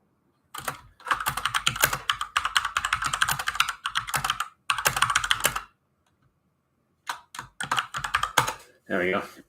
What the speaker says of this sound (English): I'm just going to finish typing my message here.